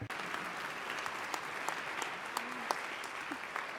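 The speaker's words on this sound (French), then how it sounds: "Des applaudissements pour les intervenants." Applause from a conference audience for panel speakers at an international labour meeting, a steady moderate patter of many hands with a few brief vocal sounds mixed in.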